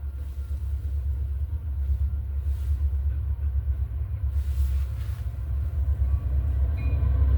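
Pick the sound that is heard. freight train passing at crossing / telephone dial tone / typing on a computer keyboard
freight train passing at crossing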